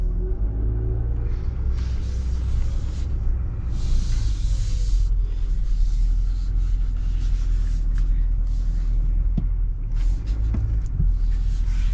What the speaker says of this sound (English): I like the sound of the Duramax.